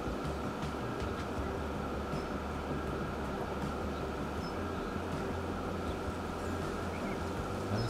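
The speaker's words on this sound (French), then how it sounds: "Ce sont des trains plus rapides." Trains run in the rail transport game Transport Fever 2, a steady low rumble of rolling wagons with faint clicks over it, continuous and fairly quiet.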